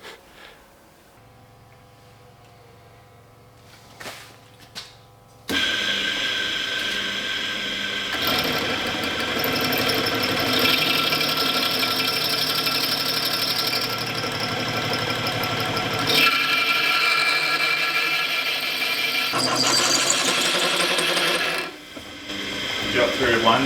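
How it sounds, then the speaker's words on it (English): A hand drill grinds and whirs through stainless steel, starting after a few quiet clicks, with a harsh sustained ratcheting buzz that shifts in pitch before pausing. "I got one done on the hand drill."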